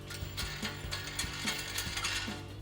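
A ratchet clicks in quick repeated strokes, close and crisp, tightening 8mm button head bolts on a splash guard during a 2014-2021 Toyota Tundra front bumper install.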